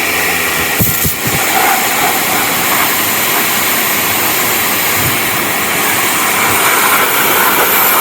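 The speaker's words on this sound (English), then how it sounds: "you would clearly pressure wash it afterwards to get all the residue off" A pressure washer blasting rusty parts clean after a liquid rust remover test: a loud, continuous roaring hiss, steady and close, with no talk.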